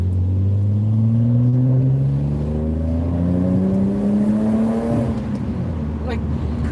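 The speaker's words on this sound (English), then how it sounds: "Just that sound when it gets up in that higher range, that higher RPM range, and you hear this thing just want to keep going." A van's engine revs up through the gears into its high range, rising tones climbing again and again under a steady road rumble from inside the cabin.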